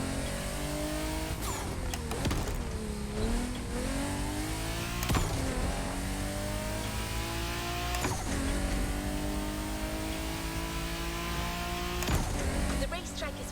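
Porsche 911 GT3 Cup race car engine in The Crew Motorfest racing game, loud and revving hard with rising pitch sweeps and sharp gear-shift breaks, heard under a voice talking.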